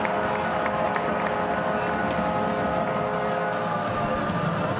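Crowd at a VEU Feldkirch ice hockey home game against HK Celje roaring and cheering after a goal, a dense continuous wash of voices filling the arena.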